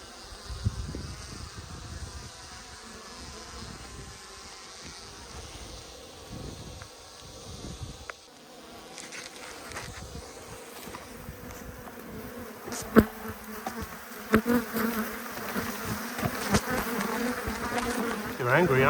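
Angry bees buzz thickly around a hive on a windy late afternoon, a dense, shifting drone with sharper close passes growing louder toward the end.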